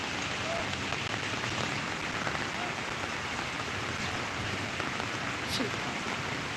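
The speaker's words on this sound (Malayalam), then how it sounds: "ഇപ്പോഴും നിലയ്ക്കാത്ത മഴ തുടർന്നു കൊണ്ടിരിക്കുന്നു" Dense, steady rain pours without letup beside the Meenachil River, a constant broadband hiss filling the scene with faint low rumbling underneath.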